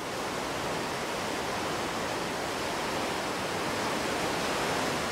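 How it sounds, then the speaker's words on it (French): The Orange River plunges down the granite gorge of Augrabies Falls, a dense, unbroken roar of falling water, loud and steady throughout. "le fleuve Orange jaillit au milieu des granites et se précipite 70 mètres plus bas au fond d'une gorge."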